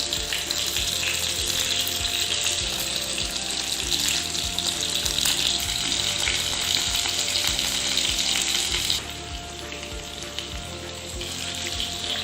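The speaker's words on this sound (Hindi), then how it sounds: "आप देख सकते हैं हमारे कबाब जो हैं वो पक रहे हैं" Mutton chapli kebabs fry in a pan of hot oil, a loud, dense, continuous sizzling crackle close by that eases slightly near the end.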